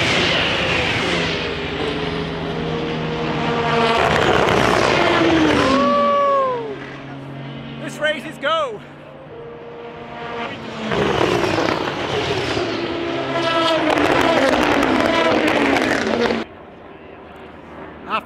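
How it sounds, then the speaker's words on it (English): Le Mans P1 prototype race cars roar past on the Mulsanne straight at the 24-hour race, loud engine notes rising and sweeping by in several waves with Doppler whines, heard close from trackside. "P1 cars are coming down the Morsham straight"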